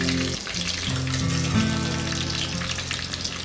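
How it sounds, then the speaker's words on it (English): Chicken pieces for crispy popcorn chicken frying in hot oil, a steady close sizzle and crackle with low bubbling that runs unbroken throughout, without any talking. "while the second batch is frying"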